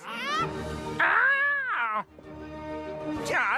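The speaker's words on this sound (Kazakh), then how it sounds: "Бұл кемеде мысықтар көп." Cartoon cats meow loudly in a series of drawn-out, rising and falling cries, one long wail in the middle and shorter calls at the start and end, close and clear against a light background.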